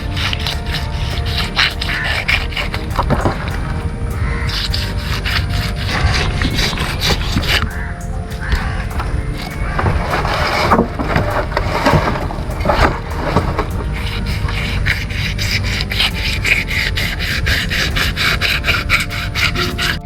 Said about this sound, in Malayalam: നല്ല ചിറക് അങ്ങോട്ട് മുറിക്കുക.